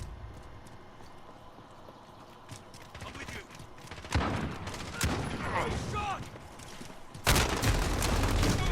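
Gunfire crackles in a Modern Warfare multiplayer match, with repeated sharp bursts and heavier volleys getting louder toward the end, mixed with game effects while a player talks.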